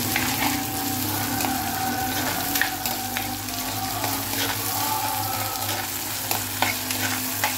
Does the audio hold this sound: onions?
yes